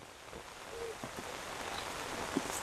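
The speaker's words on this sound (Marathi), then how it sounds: "हैसून पाऊस येतो हैसून" Light rain falls outdoors in lush countryside, a soft, faint patter of scattered drops with an occasional louder plink, steady and unbroken with no talking.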